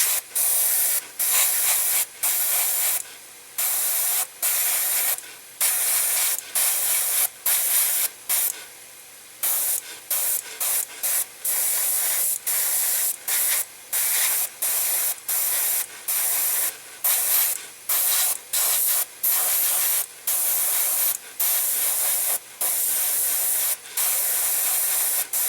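A Badger Minitaire airbrush spraying a light coat of paint, loud close airy hissing in repeated bursts of a second or two, separated by brief pauses, with no talk.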